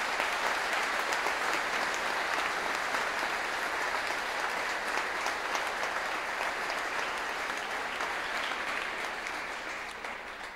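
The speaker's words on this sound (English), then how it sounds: "Can we give them a big round of applause," Steady, sustained applause from a large audience at a school speech day fills the hall, dense and continuous for about ten seconds before tapering slightly at the end, with no talking over it.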